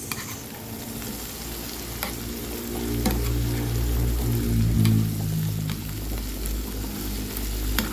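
Vegetables and shrimp stir-fry in a hot pan with a continuous close sizzle, punctuated by scraping stirs and clatters of the utensil against the pan.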